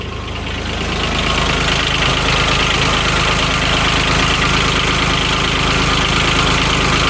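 A Kubota diesel engine picked up at auction rises quickly from quiet into a loud, steady high-revving drone, its rough rattling tone held close and constant with no voices.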